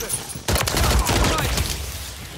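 Gunfire in the Modern Warfare III multiplayer shooter: a loud burst of rapid automatic shots that starts suddenly and keeps up as dense cracking fire, close and sustained, with game noise beneath.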